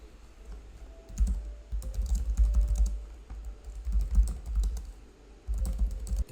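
Bursts of computer keyboard typing, quick irregular keystrokes in several runs with short pauses between, close and fairly clear, no voices.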